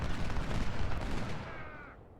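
Artillery and rifle fire rumble through a Civil War battle at Gettysburg in the Ultimate General: Civil War strategy game, a dense, continuous din of distant blasts and shots that fades slightly at the end.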